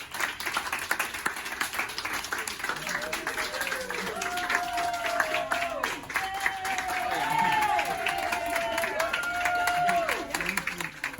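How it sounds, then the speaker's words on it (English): Hospital staff clap and cheer as patients leave the hospital, steady sustained applause from a group, with scattered voices and whoops rising over it. "the whole staff joins in cheering people out of the hospital"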